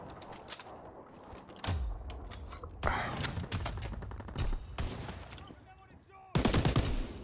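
Sniper rifle shots in a WWII video game, several sharp cracks scattered unevenly at close range among other scattered distant gunfire, moderately quiet overall.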